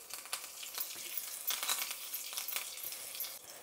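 Oil tempering with mustard seeds, dried red chillies, curry leaves and a pinch of asafoetida sizzles and crackles steadily in a pan, with sharp popping bursts scattered throughout, close and alone.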